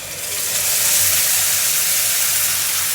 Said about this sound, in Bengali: এখন আমি রসুন আদা পেঁয়াজ বাটাটা দিয়ে দিব।